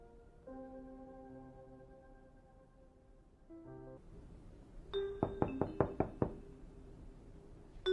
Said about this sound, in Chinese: 一阵敲门声响起